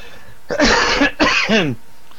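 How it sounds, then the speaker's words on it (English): Two loud, close coughs in quick succession, the second trailing off with a raspy throat-clearing sound. "He's trying to cover it up by coughing."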